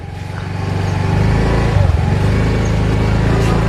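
A Yamaha Gear Ultima scooter-style motorcycle being ridden, its engine droning steadily and close, rising slightly as it gets underway, with some speech-like sound alongside.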